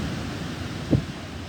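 Wind and sea surf on the coast at Tuapse make a steady, broad rushing wash with one brief soft thump partway through, and no voices.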